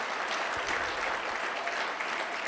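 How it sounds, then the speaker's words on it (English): An audience applauds at a conference event, a steady wash of many hands clapping, moderately distant and fairly quiet. "give her a clap"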